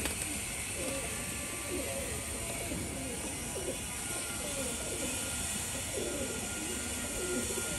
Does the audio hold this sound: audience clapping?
no